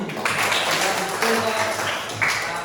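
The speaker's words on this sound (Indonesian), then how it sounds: "tepuk tangan dulu untuk Jesse" Schoolchildren in a classroom break into brief applause for a classmate, a dense burst of clapping with a few voices mixed in.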